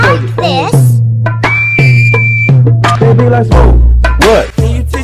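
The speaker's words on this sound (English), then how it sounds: "What's whistling anyway? You put your lips together and blow like this." A clear whistled tone rises and holds briefly amid a busy mix of voices and music-like sounds, with talking throughout.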